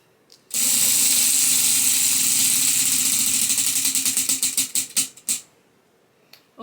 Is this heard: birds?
no